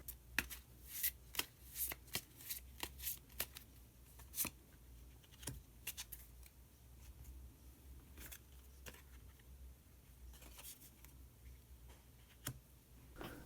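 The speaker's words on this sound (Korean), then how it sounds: "마지막으로 히든 카드 한 장 더 뽑아보도록 하겠습니다" Tarot cards being shuffled by hand, a series of crisp riffling flutters and soft taps close up, irregular bursts spread over a quiet room.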